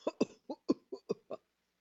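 A rapid run of about seven short, harsh coughs in quick succession, close and distinct, followed by silence.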